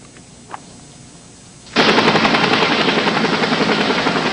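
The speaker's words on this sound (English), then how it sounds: "A life flight helicopter transferred him to Vanderbilt Hospital in critical condition." A medical rescue helicopter roars in suddenly and loudly, its rapid rotor thumping steady and close after a quiet stretch with a faint brief tone.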